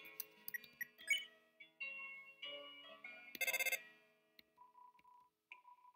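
Telephone ringing in the video game Deltarune: a short burst of bright, rapidly pulsing electronic ring stands out among scattered game blips and chimes, followed by a few softer tones near the end.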